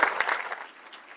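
Short burst of audience applause for a high school's advanced academics teachers and faculty, fading off fairly quickly.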